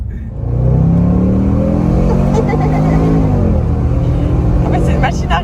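A Range Rover Sport SVR's 575 hp engine surges under hard acceleration, a loud rising roar that climbs in pitch and then holds, heard from inside the car.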